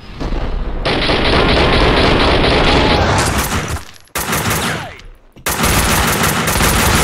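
Gunfire in Max Payne 2, loud sustained bursts of rapid shots in a close firefight that cut off abruptly twice and resume, with no speech.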